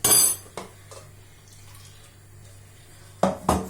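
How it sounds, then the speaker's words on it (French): Water is added to a pot of Indian chickpea curry, with short metallic clinks of pan and utensil at the start and end around a quiet stretch of faint pouring. "Vous pouvez ajouter de l'eau"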